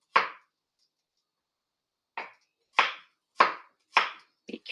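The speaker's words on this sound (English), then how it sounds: "don't rush when you're chopping. Take your time." A knife chops onions, carrots and celery on a board: one sharp cut, a pause of nearly two seconds, then a run of four evenly spaced, crisp, close strokes and a quick double tap at the end.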